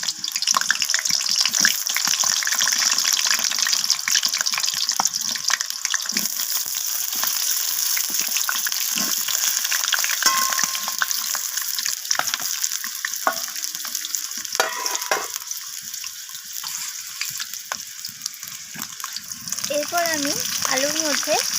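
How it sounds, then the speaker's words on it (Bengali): Cut potatoes fry in hot oil, a loud, continuous close sizzle that holds steady for the whole stretch, joined by occasional clatter and a voice speaking in the background. "এরপর এখানে তেলটা গরম হয়ে এসেছে আমি এখানে কেটে রাখা আলুগুলো তেলের মধ্যে দিয়ে দিলাম"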